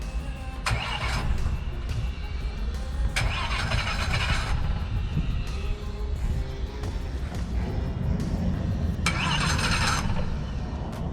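A Mercury Verado outboard engine with a crank-no-start fault cranks in three bursts, catching and settling into a steady mid-pitched idle between them, loud and close with no talk.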